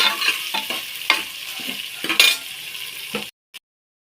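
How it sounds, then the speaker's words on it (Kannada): Onions fry in a pan for a pumpkin palya, with a bright sizzle and quick spatula scrapes and taps close by, ending abruptly in silence apart from one brief final knock. "ಈರುಳ್ಳಿ ಇವಾಗ ಚೆನ್ನಾಗಿ ಫ್ರೈ ಆಗಬೇಕು"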